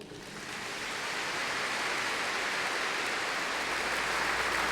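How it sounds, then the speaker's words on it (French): A church audience at an Assumption festival celebration breaks into broad, wash-like applause for a married couple, building quickly and holding steady as a soft, distant roar with no talking. "Il faut les applaudir, non?"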